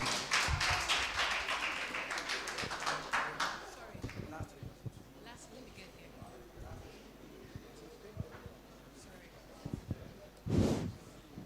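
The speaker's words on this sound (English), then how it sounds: "Let's clap for her" Audience clapping at a university student forum, a burst of many hands that thins out over a few seconds, with scattered claps and room noise and a short spike near the end.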